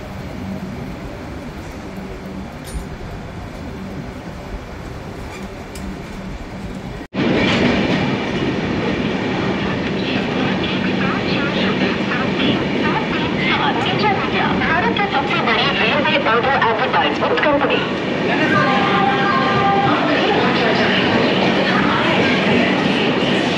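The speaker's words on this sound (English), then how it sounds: "our train departed from here at 12:55 PM, so the halt wasn't for too long" The 12101 Jnaneswari Express, on its Mumbai to Kolkata run, rolls on the rails after a station halt. A quieter stretch gives way to a loud, sustained rumble and clatter close by, with faint tonal squeals late on.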